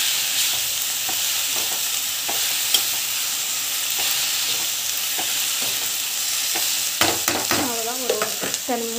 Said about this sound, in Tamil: புதினா வந்து நல்லா வதங்கட்டும்.